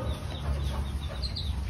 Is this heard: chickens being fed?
yes